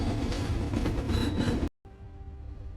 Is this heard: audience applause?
no